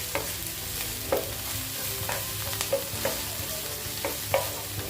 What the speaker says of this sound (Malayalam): അത് നന്നായിട്ട് പച്ചമണം പോകുന്നത് വരെ നന്നായിട്ട് വഴറ്റിയെടുക്കാം.